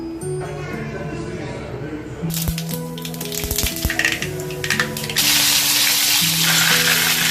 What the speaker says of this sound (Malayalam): ചൂട് ചൂടുവെള്ളം ഒഴിക്കാം കേട്ടോ